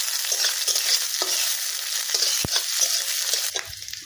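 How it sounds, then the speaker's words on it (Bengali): Chopped onion and garlic fry in hot oil in a home kitchen, cooking for a Bengali dhekia shaak chorchori. A continuous, fairly close sizzle carries a few stirring scrapes, and no one talks. "এই পেঁয়াজটা একটু লাল লাল করে ভেজে নেব।"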